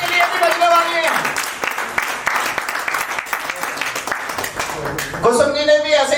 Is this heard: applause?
yes